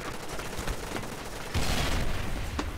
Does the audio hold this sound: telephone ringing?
no